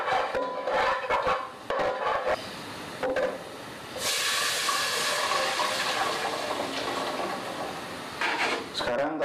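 Steady, loud sizzling hiss of spice paste frying in hot oil for sate padang, continuous for several seconds with brief dips in between.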